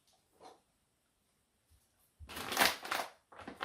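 A few faint scratches, then a loud crinkling rip of plastic packaging being cut open on a faux fur double bean bag chair, in two close rustling bursts.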